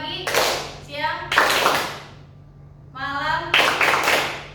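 Hands clap together in a group clapping game in a classroom guidance session, sharp bursts of several quick claps in two clusters with a brief pause between, while children's voices are heard chanting along.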